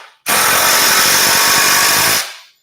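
A power drill drives a screw into a wooden framing stud in one loud, continuous whir lasting about two seconds, close by with no talking.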